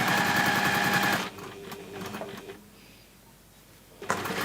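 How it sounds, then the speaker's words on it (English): A sewing machine top stitches a fabric gift bag facing in a fast, whirring run for just over a second, then stops, leaving quiet handling sounds before a brief restart at the end. "top stitch the bottom of the facing down"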